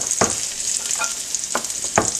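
Scallions fry in a pan while a filet mignon Oscar is being cooked, a close, steady sizzle broken by several sharp clacks of a utensil stirring against the pan.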